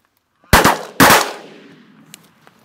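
Two loud, close shotgun blasts about half a second apart during a goose hunt in a field, each decaying into an open-air echo, followed by a few faint distant pops.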